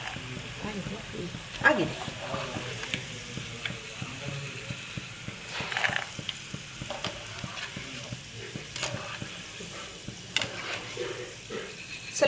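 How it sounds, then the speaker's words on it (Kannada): Peanuts fry in hot oil with a soft continuous sizzle and scattered small crackles and pops, a stirring utensil scraping now and then, while a person talks over it. "ಸ್ವಲ್ಪ ಶೇಂಗಾ ಹಾಕಿದ್ದಾರೆ, ಅದನ್ನು ಅಷ್ಟೇ ಫ್ರೈ ಮಾಡ್ಕೊಳ್ಳೋದು ಎಣ್ಣೆ ಒಳಗೆ"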